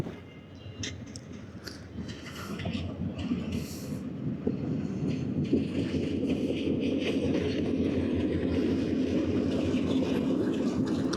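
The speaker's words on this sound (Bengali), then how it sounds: "এই যে সামনে ট্রেন আসতেছে আমি এদিক দিয়ে দাঁড়াই সকালবেলা ট্রেন দেখতে ভালোই লাগে" A train rumbles past nearby, a steady heavy clatter of wheels on rails that builds and stays loud throughout.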